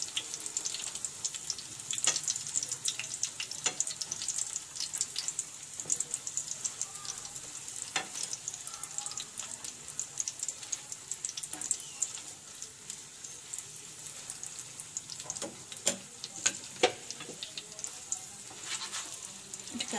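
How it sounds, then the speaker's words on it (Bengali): A Mughlai paratha with an egg and spiced filling frying slowly over low heat in a pan, giving a steady bright sizzle with occasional crackles and spatula taps, close by and continuous. "একটু সময় নিয়ে আপনারা ভাজবেন, যাতে ভিতরের পুরটা ভালোভাবে ভাজা হয়"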